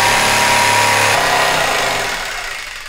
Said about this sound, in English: cut out the rest of the bird's mouth using a jigsaw